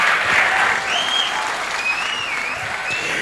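An audience at a Telugu mimicry show imitating Chiranjeevi applauds loudly and continuously. The clapping is dense, and whistle-like tones and a voice rise faintly over it.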